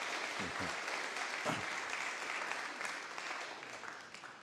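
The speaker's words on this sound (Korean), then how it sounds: "우리 박수로 또 환영하겠습니다." A church congregation claps in welcome during a worship service, a soft, even spread of applause from many people that carries on steadily and fades slightly at the end.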